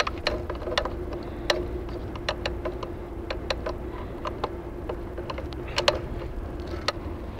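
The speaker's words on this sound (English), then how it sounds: "place your rollers in place" Falcon cable lasher being loaded, with rollers set into place and a gate mechanism handled: a steady run of sharp mechanical clicks and ratcheting ticks, irregular in spacing, close by over a low background hum.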